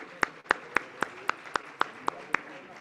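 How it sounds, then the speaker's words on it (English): Eight sharp, evenly spaced hand claps ring out one by one at a conference on hemispheric security, a lone slow clapper rather than a full crowd, fairly quiet against a faint room hum. "One more round of applause for this great discussion"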